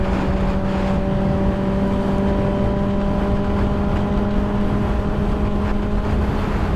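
Steady, loud roar of a Kawasaki ZX6R motorcycle riding at speed, with a constant engine drone under heavy, buffeting wind noise and no letup.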